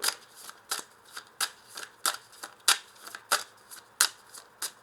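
Tarot cards being shuffled and laid out, a steady run of crisp riffling snaps and soft slaps, close and clear with no talking.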